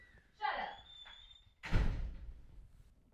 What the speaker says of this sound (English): Don't slam my door, either.